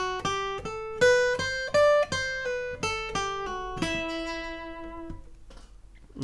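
Single notes of a scale are picked one after another on guitar, clean and close, some with slides, ending on a sustained ringing note.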